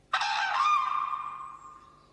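A single loud, rooster-like bird call, close and strident, rises sharply and holds for about a second before trailing off over roughly two seconds, with no voices.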